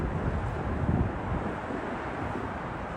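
Steady wind blowing on a street in Lower Manhattan, New York City, a constant low rumbling buffet across the whole stretch with no talk.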